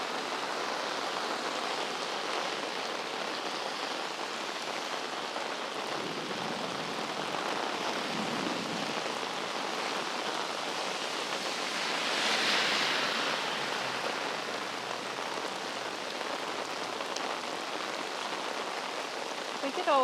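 Heavy rain pouring over a street in Geylang, Singapore, a dense continuous hiss of water running off traditional roofs, with a brief swell in intensity midway.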